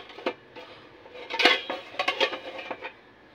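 A frying pan (kawali) is handled close by, giving a quick run of metallic clanks and clatters, some sharper than others, with no talking.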